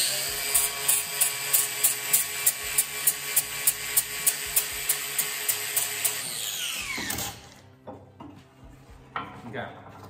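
An angle grinder with a flap disc grinds an axe head with a close, loud, high whine that pulses in a regular rhythm. After about seven seconds it winds down and leaves a few scattered clinks.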